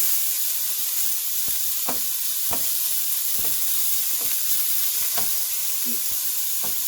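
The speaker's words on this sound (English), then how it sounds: "You definitely want to hear the sizzle." Beef browns in a hot pan, a constant frying sizzle broken by occasional soft clicks and scrapes of stirring.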